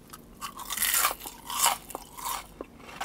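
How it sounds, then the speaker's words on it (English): Close, crisp crunching of curly fries being chewed, several sharp bites and crackles in quick succession with no talking. "You guys hear that crunch?"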